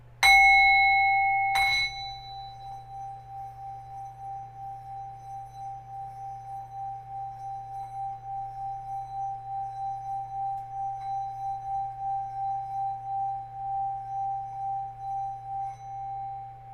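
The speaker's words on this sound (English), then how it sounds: "I'll do the sound bowl" A singing bowl is struck twice in quick succession, then a single clear tone rings on steadily for a long time, slowly pulsing as it sustains.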